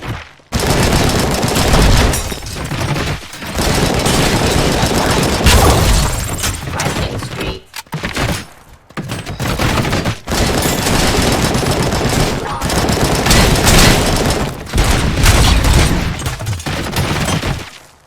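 Dense, rapid gunfire from the RoboCop: Rogue City video game, loud sustained bursts of automatic shooting with booming impacts and a few brief pauses, running nearly the whole time.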